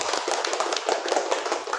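Brisk, close applause from a group in a classroom, honoring the commander, with rapid overlapping claps forming a lively, even patter for a couple of seconds.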